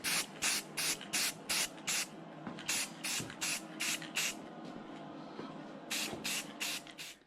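Repeated short bursts of spray paint hiss from an aerosol can, rapid pulses in a steady rhythm with a brief pause before a final few sprays.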